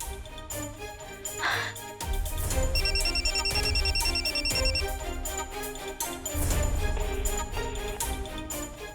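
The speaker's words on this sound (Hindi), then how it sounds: "फोन ही नहीं उठा रहा है" An electronic phone ring trills repeatedly for a couple of seconds over loud background music, then stops, unanswered.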